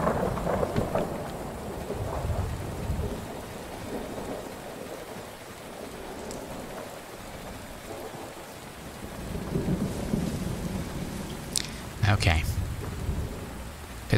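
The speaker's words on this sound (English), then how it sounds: "Considering we have got radioactive rain going on" Radioactive rain falls steadily in the Fallout 4 wasteland, a continuous hiss broken by low rolling thunder and a sharp crack near the end, while someone speaks briefly.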